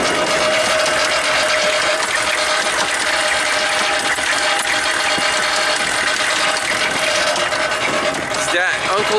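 A loud, steady Chevy 6.5 turbo diesel truck engine runs with a harsh mechanical knocking clatter throughout, broken only by a brief change near the end.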